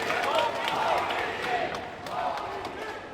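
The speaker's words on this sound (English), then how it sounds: "This crowd energising the star from Chinese Taipei" Crowd at a pool semi-final in Hanoi cheering and clapping for Ko Pin-Yi of Chinese Taipei, a steady loud roar with scattered claps throughout.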